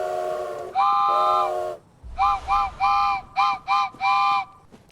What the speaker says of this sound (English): So thank you, Pretentious One, Elder Drew, and Aplo for making that hype train happen